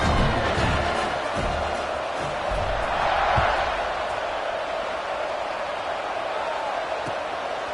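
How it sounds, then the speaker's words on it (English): A stadium crowd buzzes steadily at a football game after a score, ahead of a kickoff: a dense, continuous roar of many voices with a few brief thumps and swells, holding loud throughout. "this crowd is buzzing after that last score"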